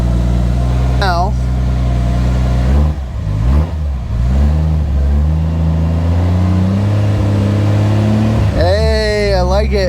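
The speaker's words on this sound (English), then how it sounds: "So now I can rev it up without it getting stuck in like a rev hang" Toyota MK3 Supra engine running on a standalone ECU, revved up sharply twice from a rough, throbbing idle, loud and close, with a voice talking over it.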